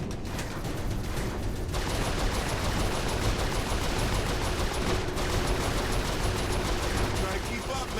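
Continuous turret gunfire from a vehicle chase in Saints Row 4, a dense, unbroken roar of rapid shots and engine noise that stays loud and steady throughout.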